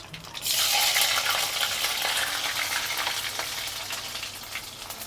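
Garlic dropped into hot oil for a prawn gravy bursts into loud sizzling frying, with stirring and scraping sounds over a constant crackle, close up and with no talk.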